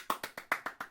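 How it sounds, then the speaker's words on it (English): Handclaps sound in a quick, even burst of six sharp, close claps with nothing else around them. "I can hear you all clapping out there, cheering."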